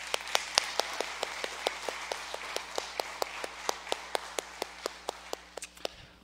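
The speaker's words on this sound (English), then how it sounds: "let's give a hand clap for Jesus for that" In a church during an All Saints Sunday service, sharp, evenly spaced single claps ring out, one about every quarter second, crisp and distinct in a quiet room rather than a dense crowd ovation.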